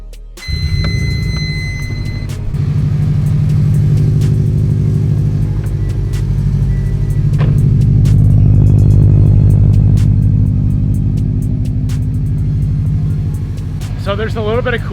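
A car engine fires up after a repair, with a brief cranking and catch followed by a steady, loud idle rumble that swells slightly in the middle and settles again.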